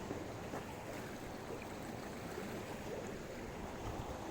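Sacred waters flowing into a lake make a steady, even rush of moving water that stays constant and fairly close throughout, with no voices.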